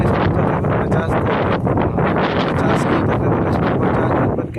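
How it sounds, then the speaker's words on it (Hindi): Strong wind of about 50 km/h buffets the microphone on a cold winter fishing boat trip to Charna Island, Pakistan, a loud continuous roar and rumble with gusty fluctuations and no clear voices. "तकरीबन स्पीड 50 की स्पीड में हवा चल रही थी।"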